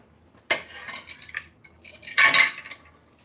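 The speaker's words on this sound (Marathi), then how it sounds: "भांडी घासते" Metal utensils are scrubbed while being washed, giving a few sharp clinks and clattering bursts of steel knocking together, close and separated by short quiet gaps.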